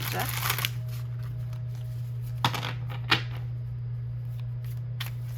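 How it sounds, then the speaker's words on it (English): An oracle card deck shuffled in bursts of soft, papery riffling, busiest at the start and then in a few short flicks, close and clear over a steady low electrical hum. "These are such beautiful cards, and I love how they shuffle too"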